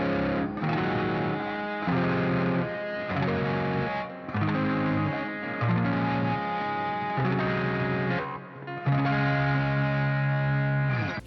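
Electric guitar in open tuning strumming ringing chords through distortion and chorus effects, each chord sustained for about a second in a steady progression.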